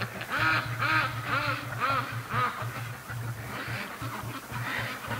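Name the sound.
ducks quacking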